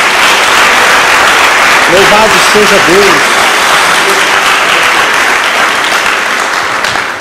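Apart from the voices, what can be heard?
applause in a church service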